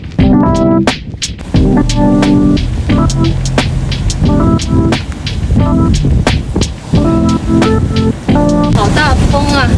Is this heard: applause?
no